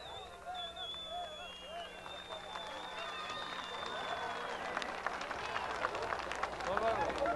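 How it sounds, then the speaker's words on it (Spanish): Crowd applause at a jaripeo bull-riding event in San Isidro, Michoacán, greeting the first rider on the bull Mascotita León de la Sierra. Sustained clapping and crowd noise swell steadily, with whistles cutting through. "Quiero el aplauso para el primer hombre que montó Mascotita León de la Sierra."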